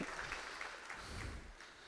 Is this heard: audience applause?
yes